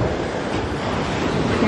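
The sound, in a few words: ocean waves crashing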